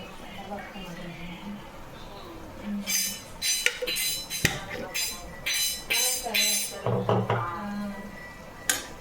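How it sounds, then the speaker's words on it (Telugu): A spoon scrapes and clinks against a pan as prawn egg curry is stirred after salt is added, giving a run of irregular metallic scrapes and taps with a few sharper clinks, close and moderately loud, with occasional talk between. "సాల్ట్ వేసుకొని ఒకసారి తిప్పుకుందాం."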